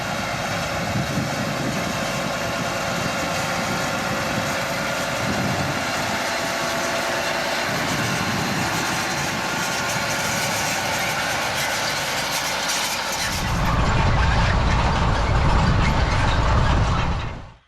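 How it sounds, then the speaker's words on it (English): A John Deere 8RX 340 tractor pulling a 24-row cultivator through a cornfield gives a steady droning engine rumble, louder and fuller in the last few seconds as it passes close by. "As the tractor and cultivator head back across the field"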